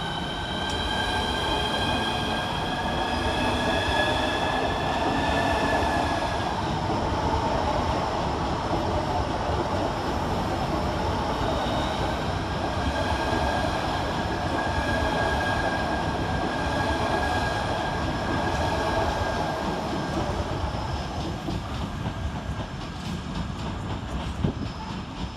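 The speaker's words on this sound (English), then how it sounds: "Next out to depart is 395025 and 395003 with the 1205 Southeastern High Speed service to Ramsgate" Southeastern Class 395 high speed units departing London St Pancras station, a steady loud rumble of rolling stock with sustained wheel squeal tones and faint clickety-clack throughout, no talking.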